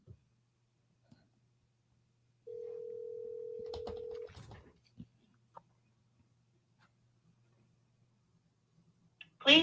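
A phone line gives a steady dial tone for about two seconds in an otherwise quiet room. Faint clicks and keypress ticks follow, then a short louder burst at the very end.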